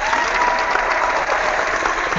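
Steady applause from an online seminar audience fills the whole stretch, dense and continuous with only a slight dip partway through, and no voices break through.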